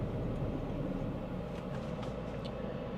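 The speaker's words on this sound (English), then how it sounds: "It's idling wonderful." An old, high-mileage Domino's pizza delivery car idles close by with a steady, even low rumble that continues without a break.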